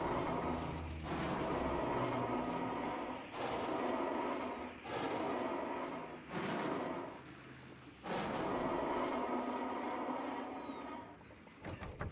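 A vehicle handbrake being applied, heard as several loud bursts of hissing air separated by short pauses, with a steady engine rumble running underneath.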